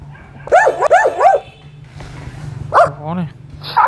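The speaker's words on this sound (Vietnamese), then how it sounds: "My talking puppy." A cartoon puppy in the mobile game My Talking Puppy lets out a quick string of high, yappy barks, then a pause and a few more yips and a whimper, close and loud.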